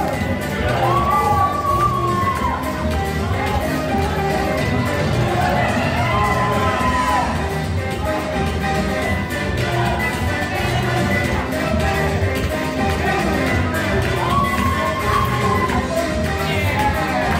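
Wrestling event crowd in Warsaw, Missouri cheering for wrestler Bert Candy as he dances, a dense, continuous roar of cheers, shouts and whoops that stays loud throughout.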